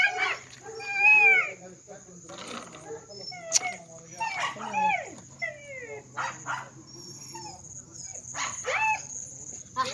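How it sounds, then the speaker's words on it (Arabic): A small dog on a farm barks and yelps repeatedly in short bursts, close and fairly loud, with crickets chirping steadily behind and people talking in between. "الكلب ده علم على ابراهيم"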